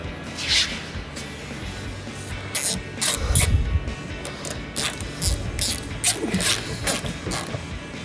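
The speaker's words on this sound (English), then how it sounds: "we're going to install our 7mm screws on the fender well, and 2 on each side." A small ratchet drives 7mm screws into a truck fender well, its pawl clicking in quick bursts with pauses between, close and alone.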